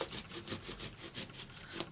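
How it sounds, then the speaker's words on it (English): Rubber stamps are scrubbed clean of black ink with quick back-and-forth rubbing strokes, a steady rasping rhythm close by and moderately loud, with no talk. "I will clean my stamps. Give them a good scrub because they're black ink."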